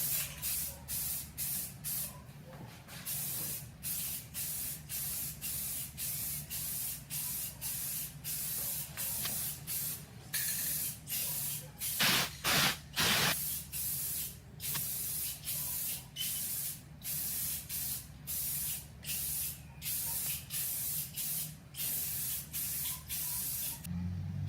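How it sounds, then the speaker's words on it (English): Rust-Oleum Ultra Cover Clear Matte is sprayed from an aerosol can onto a DIY bar stool in many short hissing bursts, some long, with brief pauses and a rattle between sprays. "Spray it down."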